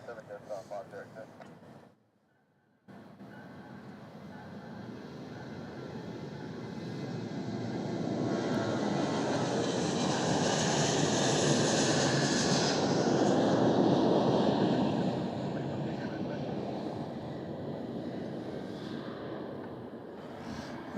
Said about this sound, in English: And that's 412 Qantas off to Sydney, another milk run.